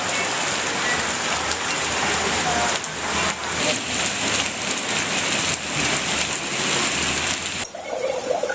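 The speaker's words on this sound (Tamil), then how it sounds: "இடி மின்னலுடன் பலத்த மழை பெய்தது" Heavy rain pours steadily in Tamil Nadu during a thunderstorm, a dense, loud, continuous hiss of drops hitting surfaces, sustained throughout before dropping off sharply near the end.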